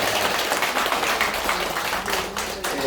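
Applause in a church service for a student receiving a scholarship, a steady, fairly close crowd of clapping hands throughout, with a faint voice or two mixed in.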